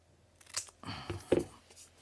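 Scissors snip through craft paper for a scrapbook journal page, a few quiet crisp cuts close by.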